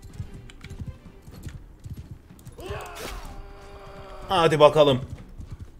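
Horse hooves clip-clop in the video game Mount & Blade II: Bannerlord, a quick patter of steps mixed with game sounds while someone talks over it.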